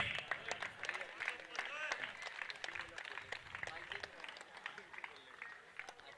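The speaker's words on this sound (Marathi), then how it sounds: "टाळ्या उंचावून द्या एकदा यशवंत ठाकूर साठी" A crowd at a competition event claps in a steady, dense patter for commentator Yashwant Thakur, moderately loud and sustained, with voices calling out among the clapping.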